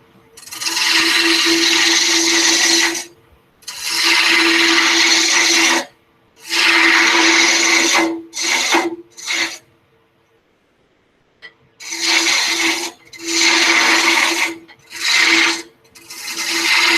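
A spindle roughing gouge cuts a wood finial spinning on a lathe, giving loud, raspy, scraping passes in long bursts with short silent gaps between them, heard close and with no talk.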